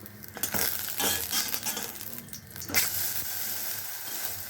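Thavalai adai batter fries in oil on a dosa pan: a brief, close hiss and sizzle with a few soft scraping knocks, fairly faint overall and free of talking.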